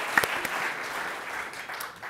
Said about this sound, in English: So if you'd please join me in a round of applause.